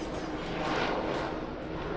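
A helicopter flies overhead, producing a soft, steady engine roar that hangs in the distance for the whole moment without any clear change.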